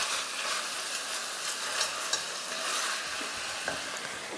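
Ground meat filling is stirred and mixed in a home kitchen, a steady scraping and sizzling texture that runs continuously and fairly quietly with no talking.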